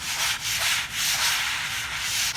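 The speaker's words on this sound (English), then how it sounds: "Just to give it a nice sand, make sure that it's very nice and clean." Sandpaper is rubbed by hand across a surface to sand off old polish, producing a loud, continuous, close-up rasping with small rhythmic surges of pressure.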